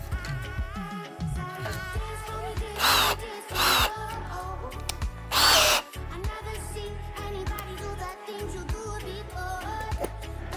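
Small drill bits bore holes in an old sprayer in three short, loud bursts, each lasting well under a second, set against a steady background hum with scattered minor noises between them.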